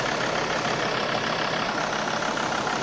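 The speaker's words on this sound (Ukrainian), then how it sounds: "Двигун працює м'яко-м'яко" A car engine idles smoothly and evenly, a steady continuous hum at moderate level with no talk or other sounds over it.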